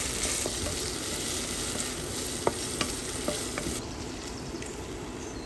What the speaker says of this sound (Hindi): इसको प्याज के साथ अच्छी तरह से भून लेंगे।